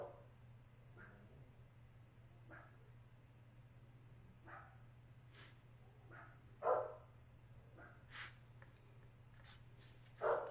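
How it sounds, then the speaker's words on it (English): Dogs bark outdoors beyond a door, heard indoors as a scattering of faint, distant single barks over a steady low hum. "that's why we're hearing the dogs just a little bit."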